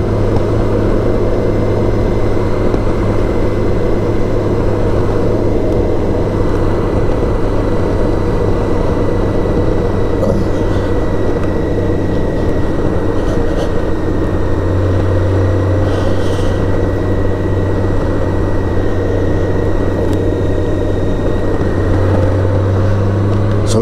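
A BMW K1600 GTL motorcycle cruises along an open country road at night, producing a loud, constant engine drone mixed with steady wind rush throughout.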